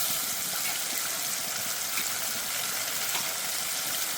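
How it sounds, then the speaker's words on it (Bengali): Water poured into a fish curry simmering in a pan, a steady close gush and bubbling wash that stays even for a few seconds. "আর একটু জল আমি এখানে দিয়ে দিচ্ছি"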